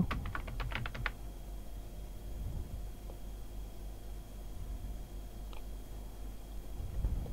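Someone types on a computer keyboard while filling in an online job application form. A quick run of close key clicks comes at the start, and a few scattered taps follow over a steady background hiss, with no talk.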